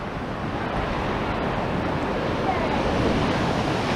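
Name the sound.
sea waves and wind at a seaside promenade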